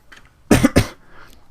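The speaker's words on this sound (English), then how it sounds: "sorry, I've got a bit of a cough" Two sharp, close coughs burst out back to back, loud and near, with faint breathy sounds just before and after.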